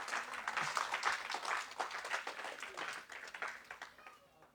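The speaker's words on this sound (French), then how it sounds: "Applaudissez le Seigneur." Church congregation clapping for the Lord at the close of a French-language service, a dense steady patter of many hands at moderate level that thins and fades toward the end, with voices mixed in.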